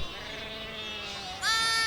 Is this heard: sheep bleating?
yes